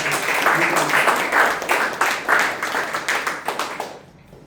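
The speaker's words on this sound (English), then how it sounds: "So again, a big round of applause for all of you." Meeting members clapping together, a dense burst of applause that stays steady for a few seconds and then tapers off, fairly close and moderately loud.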